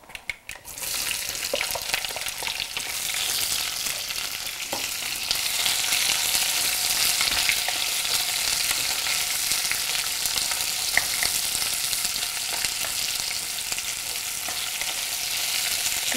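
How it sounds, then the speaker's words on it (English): Lengthwise-sliced onions saute in a pan with curry leaves for a South Indian dish, giving a loud, steady, close sizzle and crackle that runs unbroken with occasional stirring ticks and no voices. "We're going to saute this till it's soft, and you can see that the onions in here are sliced lengthwise."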